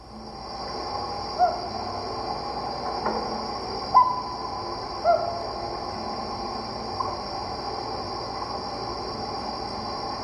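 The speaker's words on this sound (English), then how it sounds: "Here is a series of hoots from a single loon." A single loon gives a short series of soft hoots, several brief calls spaced a second or two apart and shifting in pitch, faint above a constant background hum.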